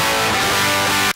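Raw guitar amplifier signal taken straight from a Suhr reactive load with no cabinet emulation, a harsh, buzzy, scratchy distorted chord held loud and dense for about a second before cutting off abruptly.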